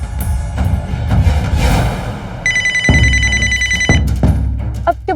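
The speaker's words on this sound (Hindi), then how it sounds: "मेरे बॉस का फोन आ रहा है बार बार" A phone rings with a repeated electronic ringtone that starts partway through and keeps going. Several sharp knocks or bangs and some indoor movement noise sound around it.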